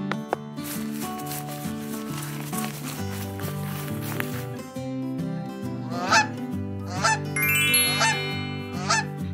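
A domestic goose honks repeatedly in loud, close, harsh calls that come in uneven bursts over a background of gentle music.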